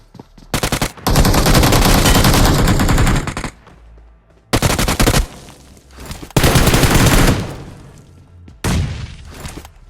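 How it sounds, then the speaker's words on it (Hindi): Loud, rapid automatic gunfire in the BGMI PUBG Mobile game comes in several long sustained bursts separated by short quiet gaps, close and dense, with no voices. "यहाँ सामने पे गोली चल रही होती है"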